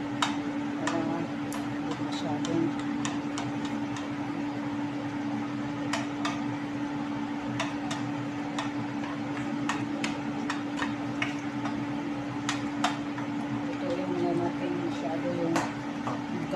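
A kitchen exhaust fan hums in a steady, close drone while garlic cooks nearby, with scattered sizzling pops and clicks over it and no voices.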